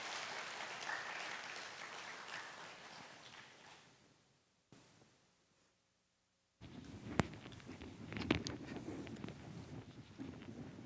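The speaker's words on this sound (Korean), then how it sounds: "우리 나오실 때에 큰 박수로 우리 한번 환영할까요?" Congregation in a church at Sunday worship breaking into applause, a dense wash of clapping that fades out, then a second burst of clapping with scattered louder claps.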